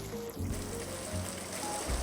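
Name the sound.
rain falling in the video game MineTest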